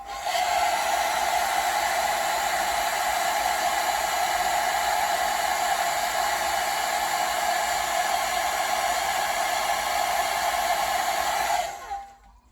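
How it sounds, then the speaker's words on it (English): A blower roars steadily to dry Mod Podge brushed over silver on a chrome grill part from a model kit, a loud, even whooshing hum that holds for about twelve seconds and then cuts off. "Get the airbrush out, or the blower up."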